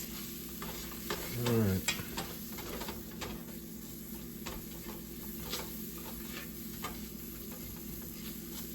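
Flour being stirred into melted butter in a pan on low heat for baked macaroni and cheese, a soft steady scraping and faint sizzle with light ticks throughout, a brief voice near the start.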